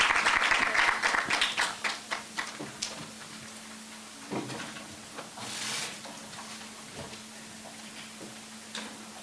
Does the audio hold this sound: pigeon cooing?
no